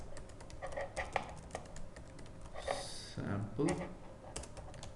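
Typing on a computer keyboard, a quick run of light clicking keystrokes at close range, with a person speaking briefly over part of it.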